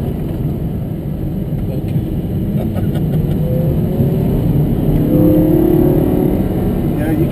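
Lamborghini Gallardo lapping a California race track, its engine a loud, steady drone with a rising tone toward the end, heard from inside the car under constant road and wind roar while someone talks.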